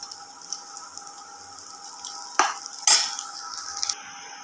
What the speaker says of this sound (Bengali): ডিমগুলো ভাজা হয়ে এসছে, এগুলো আমি আরেকটু ভালোভাবে ভেজে তুলে নেব।